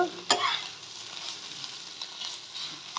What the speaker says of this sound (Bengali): সব একত্র করে আমি মিশিয়ে নেব আমার সবজিটাও অনেকটাই হয়ে গেল